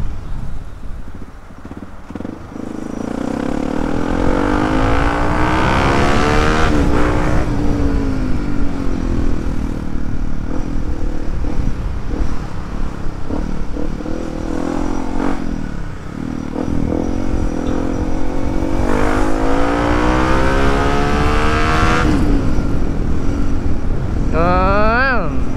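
A Yamaha WR155R motorcycle fitted with a Proliner XR-1 aftermarket exhaust, idling steadily and rising in a few revs, loud and close, with someone talking over much of it.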